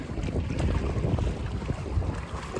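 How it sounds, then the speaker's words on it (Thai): Strong wind blowing over a river boat on the Chao Phraya River, a steady loud low roar and buffeting against the microphone with no break, heard alone. "ลมมันแรงค่ะ"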